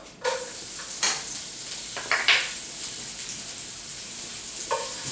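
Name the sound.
garlic sizzling in hot pan with steak fond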